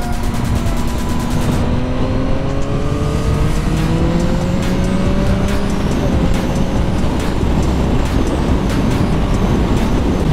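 2021 Yamaha MT-09 motorcycle ridden hard in sport mode with traction control off, a loud continuous engine roar with rising revs through the gears and heavy wind noise.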